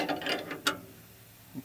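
A ratchet tightening a 3/4 inch nut on a truck brake gives a few quick clicking strokes close by, followed by a short pause and one more faint click.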